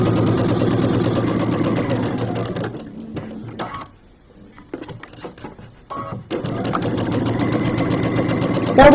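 A sewing machine stitches a quarter-inch seam for a project bag in two loud, steady runs, breaking for a few seconds of quiet handling and clicks before the motor starts up again.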